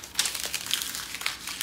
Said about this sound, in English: all you do is just crumple it up a little